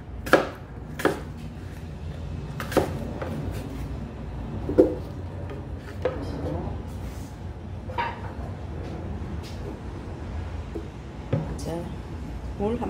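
Apples sliced for juice on a cutting board, with a string of sharp knife chops spaced irregularly over a steady low background hum, and someone talking quietly in between.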